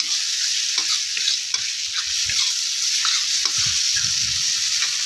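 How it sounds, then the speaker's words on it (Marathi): Chutney roasts in a pan for Maharashtrian pithla, a besan curry, giving a continuous close sizzle with occasional soft stirring scrapes, and no talking. "मस्त अशी ही चटणी भाजायची."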